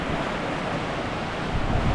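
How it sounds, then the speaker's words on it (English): Strong wind on a mountain hike in the Tatras, a loud, unbroken roar buffeting the microphone with heavy low rumble and gusty surges toward the end, with no speech. "The wind's fucking insane."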